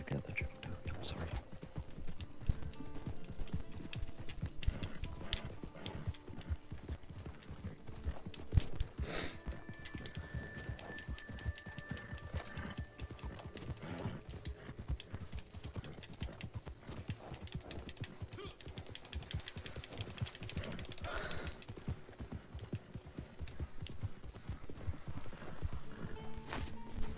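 Steady clip-clop of horse hooves in a video game runs throughout, with people talking over it and a brief neigh partway through.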